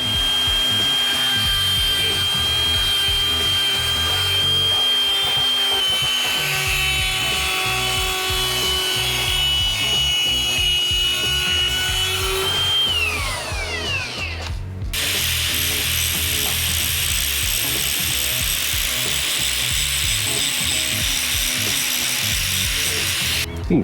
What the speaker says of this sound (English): So we're gonna do some grinding here